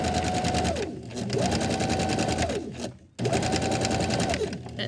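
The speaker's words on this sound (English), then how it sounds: "Well, it's in the machine, and it seems to be rolling." A sewing machine runs a rolled ruffle hem in three loud, close bursts of rapid stitching, each with a rising then falling motor whine and brief pauses between.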